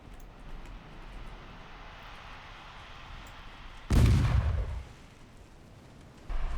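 A single heavy naval gun blast booms out in the Ultimate Admiral Dreadnoughts warship game, a sudden loud low thump that rumbles and fades over a continuous background hum, with another boom starting at the end.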